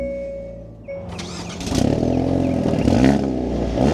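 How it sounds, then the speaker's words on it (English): A 2025 Hyundai Elantra N with a clutch pedal cranks and fires up after a quiet moment. The engine catches with a clattering rise, then settles into a loud, close, throbbing idle with a slight rev. "let's start this up with my foot on the brake and the clutch"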